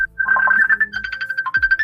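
A mobile phone rings loudly and close by with an incoming call, playing a bright, repeating melodic ringtone phrase during a live stream.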